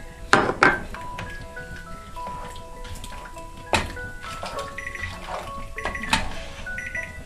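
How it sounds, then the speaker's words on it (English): A kitchen timer goes off during home cooking, its steady beeping tones sounding over the clatter of dishes and utensils, with a few sharp knocks in between. "There goes my timer."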